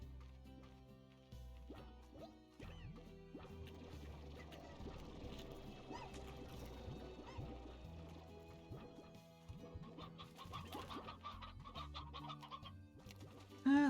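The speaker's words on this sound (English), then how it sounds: "There are plenty of chickens though" Chickens clucking in the Slime Rancher video game: repeated short clucks and chirps scattered over a bed of layered game music, fairly faint and steady throughout.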